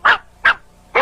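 A dog gives three sharp, loud barks at even intervals in a Nickelodeon bumper, each bark short and close with brief silence between.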